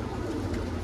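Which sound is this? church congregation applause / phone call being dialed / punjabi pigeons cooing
punjabi pigeons cooing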